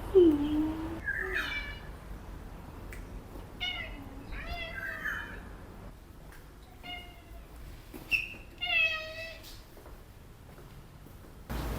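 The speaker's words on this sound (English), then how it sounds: "I wasn't expecting such a cute cat in the neighborhood as well." A cat in a neighborhood meows repeatedly, several distinct drawn-out calls spaced a few seconds apart, fairly close against quiet outdoor background.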